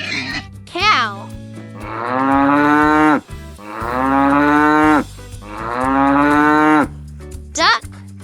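A cow gives three long, deep moos in a row, loud and close over light music, with short higher calls at the start and end.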